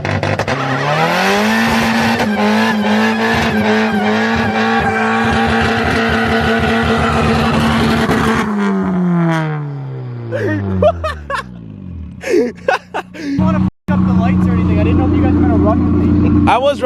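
A car does a burnout on a spare tire: the engine revs hard with a long screeching tire squeal, then the revs fall away into sputters and bursts, loud and close, with some talk underneath.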